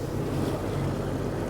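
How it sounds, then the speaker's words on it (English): Strong wind of about 15 to 16 knots rushes past a sailboat heading out of a fjord toward whitecaps. Steady waves wash against the hull beneath a constant roar of wind noise on the microphone. "now we are getting lots of wind"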